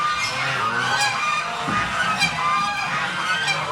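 Emden geese honk repeatedly in a nearby flock, overlapping calls sounding steadily throughout with no talk.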